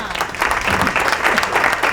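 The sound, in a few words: applause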